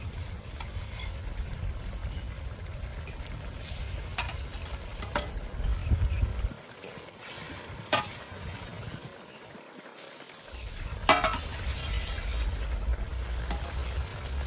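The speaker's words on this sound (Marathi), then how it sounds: "परतून घेऊ त्यांना आपण मसाल्यामध्ये" Goat brain sautéing in a masala of spices simmered with water, a steady close sizzle and frying hiss with occasional stirring scrapes and brief quieter gaps.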